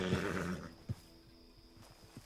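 A horse in the video game Red Dead Redemption 2 gives a loud close whinny, followed by a few short snorts and soft thuds as the sound fades.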